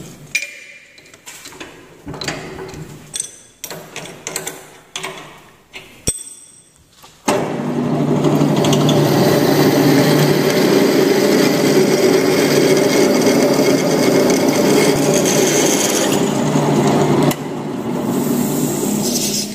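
A lathe drilling into a metal workpiece with a drill chuck held in the tailstock: intermittent clattering and grinding at first, then a loud, steady machining whir running close up for the remaining seconds.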